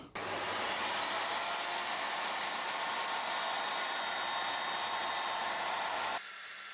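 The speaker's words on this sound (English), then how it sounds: "So this is the cut we made with a rip cut" Evolution R255TBL+ table saw running through a rip cut, a loud steady whine holding for about six seconds before stopping abruptly, leaving a quieter background hum.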